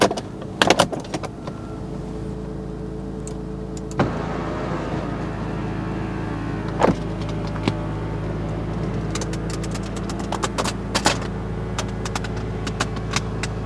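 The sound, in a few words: Porsche Boxster electric soft top operating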